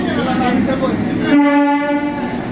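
A train sounds a loud horn close by, a sustained blaring tone over the rumble of the rail cars, heard for the full couple of seconds.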